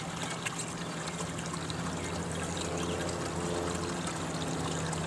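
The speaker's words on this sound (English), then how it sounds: "you're going to want to see the water's flowing much faster than on most of the recovery or small sluices" Water rushes fast through a gold concentrator sluice in a steady, continuous hiss and gurgle, close and even throughout with no talk.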